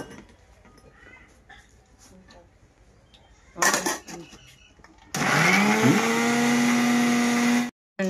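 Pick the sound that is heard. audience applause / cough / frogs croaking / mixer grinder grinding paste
mixer grinder grinding paste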